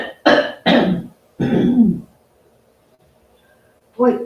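A woman gives several harsh coughs and throat clears in quick bursts, close and loud, followed by a pause and one more short cough.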